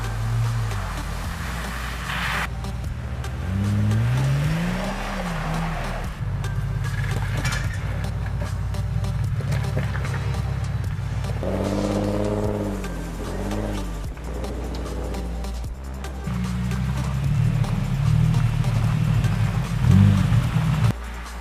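A 2000 Jeep Cherokee XJ engine rumbles and revs while driving, rising and falling in pitch over a steady road roar, loud and close throughout with no talking.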